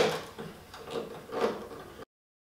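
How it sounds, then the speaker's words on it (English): Clamps being loosened and taken off a glued wooden barn door nightstand produce a few close rubbing, sliding and knocking sounds in uneven bursts, ending abruptly. "Now I'm going to go ahead and take it out of the clamps."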